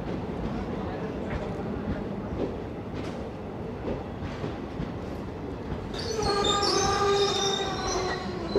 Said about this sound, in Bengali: এটা হচ্ছে তেভাগা এক্সপ্রেস, যেটা কলকাতা থেকে বালুরঘাটে যায়